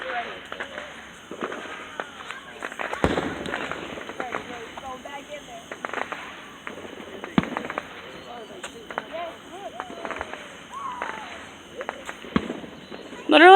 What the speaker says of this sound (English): That's because you want me to have the worst view of fireworks ever.